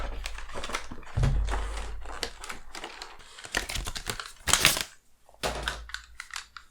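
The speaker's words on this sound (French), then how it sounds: "je déballe mes cadeaux de Noël" Christmas presents are unwrapped, with close, loud paper crinkling and tearing in irregular bursts, plus a few short rustles and brief pauses.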